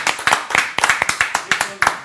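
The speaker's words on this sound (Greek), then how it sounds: "θα ήθελα να δώσουμε ένα μεγάλο χειροκρότημα" A studio audience claps for the sound engineer on a Greek television show, a brief burst of sharp, fairly rhythmic handclaps, close and loud.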